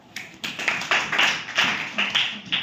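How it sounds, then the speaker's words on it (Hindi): Classroom students clap for a classmate, a bright, crackling burst of applause that swells in repeated waves for the whole stretch, fairly close and loud, with no talking over it. "पुनीत के लिए अच्छी ताली बजाओ यार"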